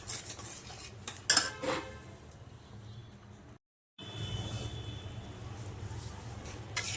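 Halwa stirred in a pan with a metal spoon: scraping and clinking against the metal come in bursts, stop in a short silent break, then resume as a low, steady scraping.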